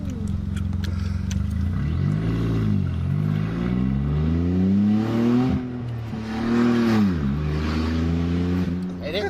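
A turbocharged Smart car with its muffler deleted revs loudly up close, the engine note rising and falling in repeated swells over about nine seconds, with a harsh, raspy exhaust drone throughout.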